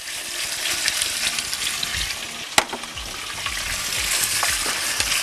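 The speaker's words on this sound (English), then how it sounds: "we want to brown off our lamb" Lamb browning in hot olive oil in a camp pan gives a steady, close sizzle and crackle, with a sharp utensil clack partway through.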